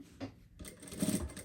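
Sewing machine stitching a handbag seam, a short quiet burst of rapid mechanical needle clatter with a soft pause before it runs again.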